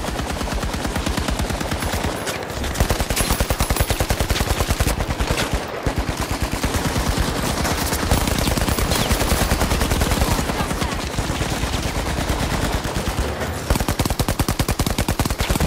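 Rapid, continuous gunfire in the shooter game The Finals, dense bursts of shotgun and automatic fire layered close and loud without pause for the full stretch, with no voices over it.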